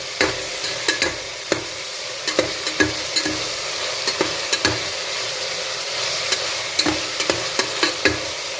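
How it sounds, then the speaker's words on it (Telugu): Tomato rice masala with coriander and mint frying in a pan, a steady sizzle overlaid by repeated sharp scrapes and taps of a spoon stirring at an uneven rhythm, close and clear with no talking. "ఇప్పుడు మళ్ళీ వేయించాలి."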